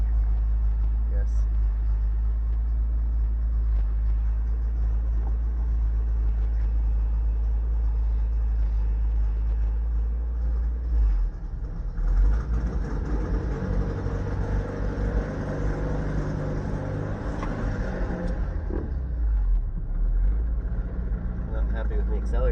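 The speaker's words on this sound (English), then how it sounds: "I'm not happy with me accelerating at all." A rebuilt Toyota MR2 engine accelerating during a first drive, a deep continuous rumble heard from inside the car that swells louder and rougher partway through before easing off.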